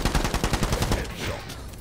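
Rapid bursts of video game gunfire, a fast rhythmic string of loud shots that thins out into a rumbling, noisy tail in the second half.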